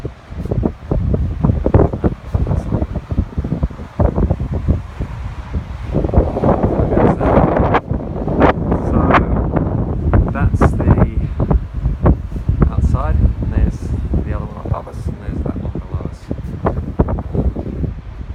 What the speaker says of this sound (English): But there's a lovely breeze up here.